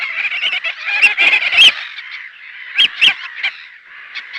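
Common terns call at a nesting colony on seabird islands, giving a busy, overlapping stream of harsh, high squawks and rasping cries that rise in bursts, fairly close and loud, with no people talking.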